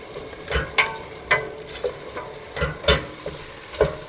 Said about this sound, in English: now we're gonna add in some white wine, and we're gonna let the wine evaporate